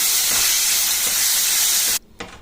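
Raw mango pieces hiss and steam loudly as they are stirred and cooked in a pan for mango pulihora, a steady broadband sizzle that cuts off abruptly near the end, followed by a brief clatter.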